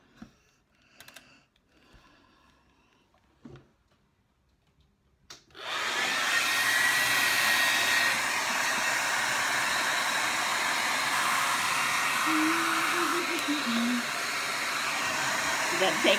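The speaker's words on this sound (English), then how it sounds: "And I'm just going to blow dry my hair." A hair dryer blows short hair with a loud, steady rushing roar that switches on after several seconds of near-quiet with a few faint handling sounds.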